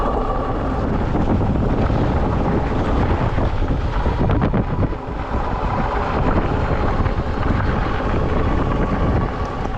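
Steady, loud wind buffeting the microphone while riding a folding electric bike at top speed, a continuous roaring rush that barely lets up, with no voices.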